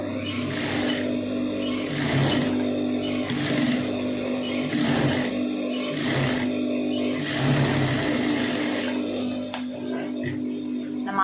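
An electric sewing machine runs in repeated bursts while stitching piping onto a blouse sleeve, its steady mechanical whir and motor hum starting and stopping about every second, close and fairly loud with no talking.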